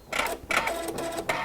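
A PFAFF Creative Icon sewing machine gives a few short mechanical whirs and clicks as it stops and trims the thread, three quick bursts close up in a quiet room.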